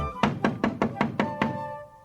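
A harsh, evenly paced knocking on a door, seven hollow raps in quick succession, close and distinct with nothing else around them.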